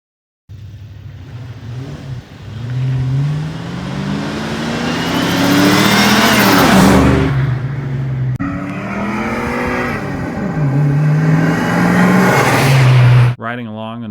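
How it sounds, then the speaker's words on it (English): A 1987 Ford Mustang GT 5.0 convertible drives with the top down on an October evening. Its V8 engine is loud and close, rising and falling through several revs and gear changes, with a rush of wind over the whole run. "we cruised along and listened to the engine purr and rev as we headed back home"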